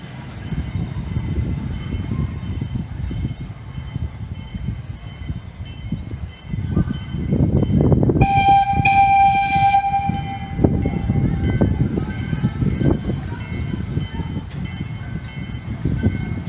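A miniature CP Huntington-style engine rumbles steadily as it eases around a curve on a small ride-on railway, with a loud, sustained horn blast sounding partway through over the continuous running noise.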